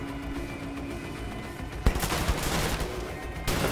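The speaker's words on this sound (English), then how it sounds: "Who the fuck's shooting me?" Gunfire in Wolfenstein: The New Order, a steady rattle of shots running through the clip, with sharper, louder bursts near the middle and again near the end, close and dense against a busy game soundscape.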